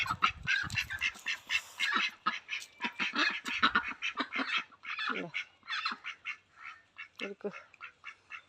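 Ducks quack repeatedly in short, close bursts, a busy overlapping chatter with no pauses longer than a moment, as they head to a pond.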